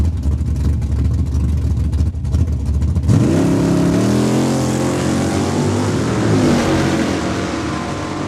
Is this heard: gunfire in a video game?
no